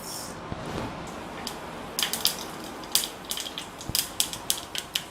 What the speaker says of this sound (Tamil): இப்போ பாருங்கள், எண்ணெய் சூடாயிருச்சு. அதில் நான் கடுகு போடுறேன்.